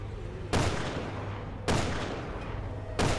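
Three loud rifle shots in the video game Resident Evil 6, each a sharp booming report with a fading tail, spaced a little over a second apart with no talk.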